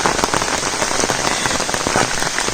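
Steady, dense monsoon rain patters down across a surface by a river in a Konkan village, a continuous close hiss of countless drops with no voices.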